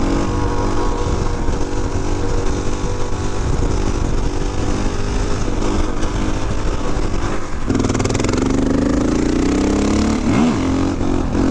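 A KTM EXC 500 dirt bike engine drones loud and steady while riding, with the pitch shifting and rising as the throttle opens near the end, no one speaking.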